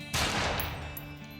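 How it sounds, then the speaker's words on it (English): A single gunshot sound effect, one sharp loud crack that rings out and fades into a long echoing tail over a low steady background hum. "final gunshot"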